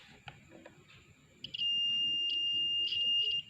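The continuity buzzer on a multimeter (AVO meter) lets out a steady, piercing electronic tone under test. Faint handling noises come before it, then the tone sounds loud and close for about two seconds, with a brief dip near the end.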